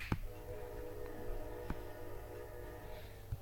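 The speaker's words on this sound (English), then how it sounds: "And there's that train again." A train passing about three blocks from a house near the tracks rumbles steadily throughout, with sustained horn-like tonal bands and a few brief sharper clanks, heard at a moderate distance with no talking.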